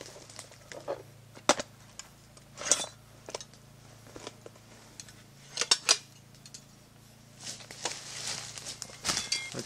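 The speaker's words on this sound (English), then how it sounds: "Well, let's get scraping these leaves away." A tri-fold military shovel scrapes leaves off the ground while digging a trench, giving irregular scratchy rasps and clinks, some close and sharp, with quiet gaps between strokes.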